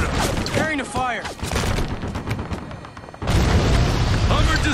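A Hummer blowing up in the war shooter Spec Ops: The Line, heavy booming blasts and rolling explosion rumble with scattered gunfire and debris, loud and close, ending in a sustained roar.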